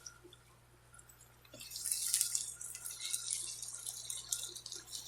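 Stock being poured into a pan of arborio rice risotto with mushrooms, a soft trickling, splashing flow that starts after a quiet moment and runs steadily, no talking.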